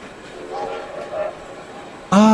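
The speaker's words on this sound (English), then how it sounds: "Soon he sees some red and green lights and the noise of a train." Train sound effect in a Wind in the Willows audiobook, a soft rumbling rolling train that swells and fades, then a loud blaring horn blast at the end.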